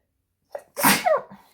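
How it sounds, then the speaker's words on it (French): A single loud sneeze with a short sharp intake of breath before it, close up and otherwise quiet. "j'ai envie d'éternuer"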